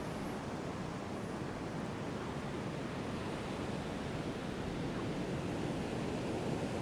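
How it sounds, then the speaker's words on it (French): Steady, broadband roar of surf washing onto a beach in Abidjan, Côte d'Ivoire, continuous and fairly soft, with wind-like hiss and no voices. "vous allez profiter de quelques sons des vagues"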